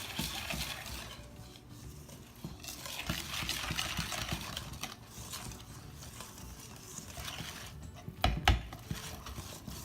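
Dry ingredients being stirred into wet batter for vegan apple cider donuts: steady scraping and clinking of a utensil against a bowl, with a sharper clatter near the end, close and fairly quiet.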